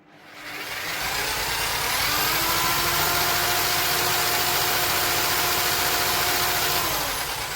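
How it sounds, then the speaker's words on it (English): A scratch-built hit and miss engine runs steadily on its stand, giving a loud, continuous mechanical drone with a faint whine. It spins up over the first second, then holds an even pace throughout, with no speech. "That engine is surprisingly in balance."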